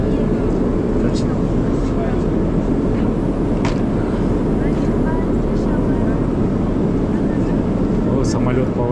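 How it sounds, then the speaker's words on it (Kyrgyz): Steady, loud broadband engine and airflow roar inside a passenger airplane cabin as the plane turns, continuous throughout with faint voices nearby. "О, самолет поворачивает."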